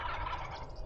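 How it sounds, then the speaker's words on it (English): A wild turkey gobbles during a West Virginia turkey hunt, one brief, faint call heard outdoors at a distance with no talk. "I heard a bird gobble behind me"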